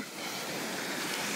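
Waves washing onto a Great Lakes shore, a steady close rush of surf and spray filling the short stretch with no voices.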